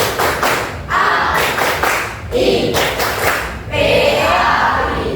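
Schoolchildren in a classroom clap out the Tepuk PAI rhythm game together, loud repeated group claps and thumps in a steady pattern, with young voices chanting along.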